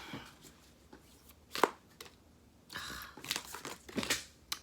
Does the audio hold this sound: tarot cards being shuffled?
yes